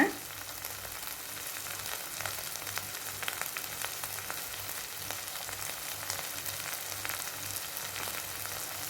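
Curry leaves sizzle and crackle steadily in a hot pan among softened tomato, a continuous close frying hiss with no talk.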